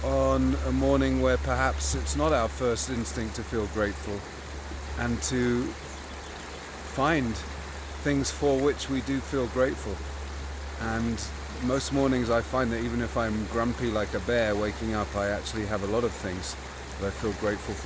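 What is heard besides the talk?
flowing creek water, South Boulder Creek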